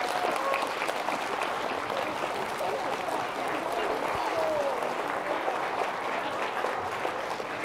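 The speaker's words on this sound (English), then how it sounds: "Let's give her a big round of applause." An audience at a school Christmas concert claps for a music teacher, with steady, dense applause held throughout and faint voices mixed in.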